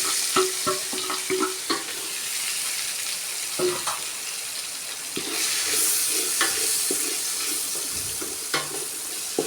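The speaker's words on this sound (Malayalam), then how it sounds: "കടുക് പൊട്ടി വന്നതിന് ശേഷം സവാള ഇട്ട് കൊടുക്കാം" Onions fry in hot oil with popped mustard seeds for a beef dish, a steady soft sizzle broken by intermittent scraping stirs and clinks of a spatula against the pan.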